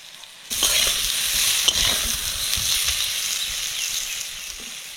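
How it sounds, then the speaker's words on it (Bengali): Thin-cut potato sticks with turmeric, salt and chilli powder fry in hot oil in a pan. The sizzle is loud and steady, and stirring scrapes through it, with no talk. "মশলার সাথে আলুটা ভালো করে ভেজে নিয়েছি।"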